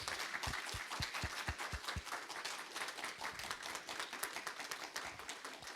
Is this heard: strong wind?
no